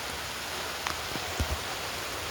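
Steady rain pours down in Tinsukia with a constant hiss, and a few louder drips land close by.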